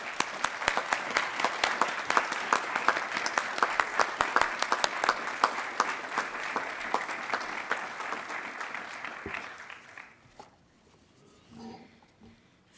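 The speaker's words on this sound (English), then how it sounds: "please join me in a round of applause in recognition of her leadership at the Tepper School" Sustained applause from a graduation ceremony audience welcoming the dean at the Tepper School doctoral hooding, steady dense clapping for about ten seconds before fading out into quiet room tone.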